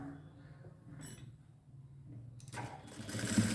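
A sewing machine runs a straight seam on a blouse, its motor humming steadily and then rising into a louder, brighter whirr toward the end, with no speech.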